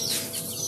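Week-old exotic pheasant chicks peep and call in a brooding pen after hatching, a brief, close burst of high, thin chirping.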